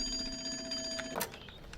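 An old-style telephone rings within a light and sound show at Ross Island in the Andaman Islands, a steady bell-like ring with a sharp burst near the end, moderately loud against faint ambient background.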